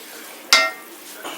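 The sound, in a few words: stirring Brussels sprouts and bacon glaze in pan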